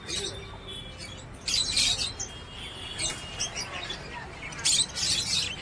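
Caged birds, pigeons among them, in an exotic bird shop in Asansol, India, giving bursts of high chirping and twittering over a steady background murmur, with people talking faintly nearby.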